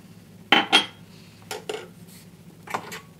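A cup and a metal strainer for Thai tea are handled, giving a few sharp close clinks and taps spaced out over a quiet kitchen background.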